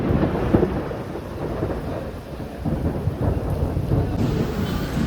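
Heavy March rain pours down as a loud, steady, close hiss of drops, with a low rumbling undertone running through the whole stretch and no voices.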